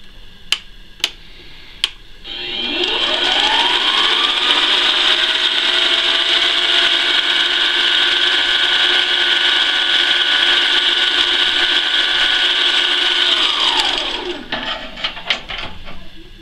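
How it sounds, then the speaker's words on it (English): A file is pressed against a wooden wheel turning on a lathe, giving a loud, steady whirring rasp that spins up, holds for about twelve seconds and winds down, with a few sharp taps before and after. "When you're using a file on a lathe, you want to make sure you use one with a handle"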